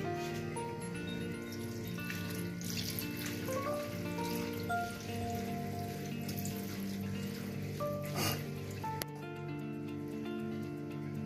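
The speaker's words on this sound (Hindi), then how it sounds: "दोस्तों इसको अब हम एक बार ठंडे पानी से निकाल लेंगे" Cold water runs from a tap over freshly boiled, drained spaghetti in a kitchen sink, a steady splashing wash that holds close and even throughout, with no voices.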